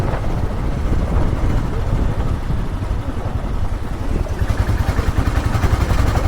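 Motorcycle ride heard from inside a helmet with the visor closed: a continuous loud, muffled roar of engine and wind buffeting that rumbles steadily and then cuts off abruptly at the end.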